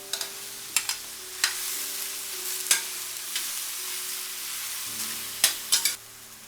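Pork slices stir-fry with chopped tomatoes in a wok, a moderate sizzle punctuated by a handful of separate spatula scrapes and clanks, with a quick cluster of strokes near the end.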